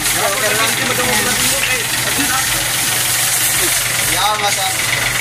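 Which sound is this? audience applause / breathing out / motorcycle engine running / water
motorcycle engine running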